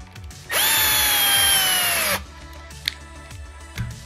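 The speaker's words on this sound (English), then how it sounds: "take my long screws, my 3/4 inch, tighten these down" A power drill drives long 3/4-inch screws into a knife sheath, giving one steady high whine of under two seconds, followed by quiet clicks and handling noises.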